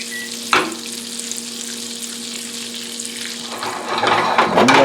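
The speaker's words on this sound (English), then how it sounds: "You want the butter to go a sort of a nut brown" Butter sizzles steadily in a pan as it browns toward a nutty colour, a constant crackling hiss with one sharp clank early on and busier, louder spattering toward the end, no talking.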